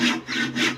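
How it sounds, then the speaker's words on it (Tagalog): A sharp hand saw cuts through wood in two quick back-and-forth strokes, close and fairly loud, with a rough rasping texture and no talking. "Talas ng lagari mo ah."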